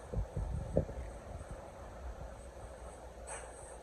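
New Jersey Coast Line commuter train riding the rails between New York, Newark and Long Branch, a faint steady interior rumble with a few soft knocks and clunks early on, no talk.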